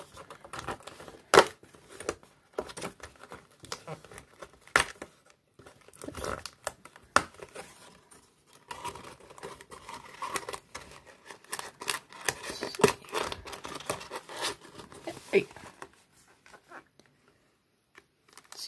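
A 2013 Topps mini hobby pack of trading cards is ripped open up close, its foil wrapper crinkling and tearing in busy bursts for several seconds before the noise thins out.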